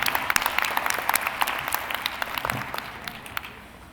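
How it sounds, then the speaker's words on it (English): Audience at a Hofstra University midyear commencement ceremony claps warmly, a dense patter of many hands at moderate distance that slowly tapers. "I always like to start off my speeches with applause"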